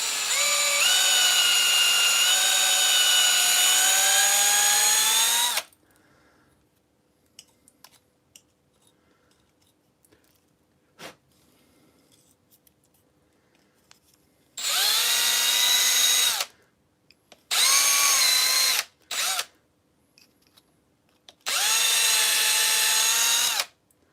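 A power drill boring out holes for M3 bolts, likely in a Typhon TLR RC car chassis, runs in several loud sustained bursts with quiet gaps and faint handling noises between them.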